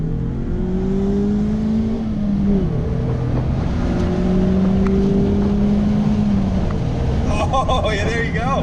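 A 2019 Mazda MX-5 Miata engine pulls hard through a steady, droning acceleration, rising in pitch in long sweeps before easing off near the end, with a faint voice at the close.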